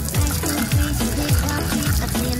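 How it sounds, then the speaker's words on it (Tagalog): Outdoor beach shower running steadily at a beach resort, a continuous close splash and hiss of water with no voices over it. "Shower muna tayo, madumi."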